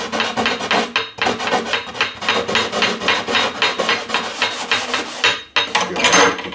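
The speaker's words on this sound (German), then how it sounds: "So, jetzt werden hier noch überall die Kanten gebrochen." Sandpaper rubbed by hand along the edges of a homemade weatherproof wooden box, a rapid series of close, loud rasping strokes in a steady back-and-forth rhythm.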